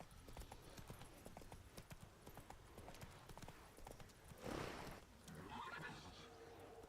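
Horse hooves clip-clop at a gallop in the video game Witcher 3, a steady rapid rhythm running throughout, with a horse whinny rising near the end.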